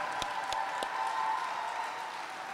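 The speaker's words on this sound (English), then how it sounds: "big round of applause" An audience at an apprenticeship graduation applauds, giving a steady wash of clapping from a crowd of moderate size at a modest distance with a few louder close claps, and no talk.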